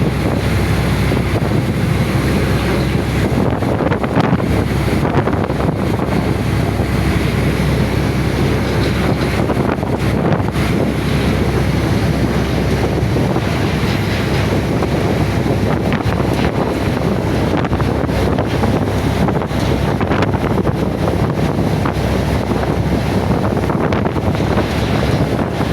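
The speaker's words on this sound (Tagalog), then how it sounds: "Matalsik na guys ang alon." Sea waves splash steadily against a small boat on a sailing trip toward Tingloy, Batangas, with strong wind buffeting the microphone; a loud, continuous roar of water and gusts with no talking.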